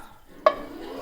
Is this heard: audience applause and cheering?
no